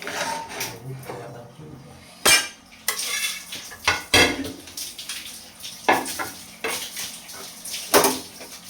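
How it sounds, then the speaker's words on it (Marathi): An iron griddle is handled while bajra bhakri roasts over a gas flame, giving repeated sharp metallic clanks and scrapes at irregular intervals, close and fairly loud. "आता तवा काढून गॅसवरती भाजून घेऊया."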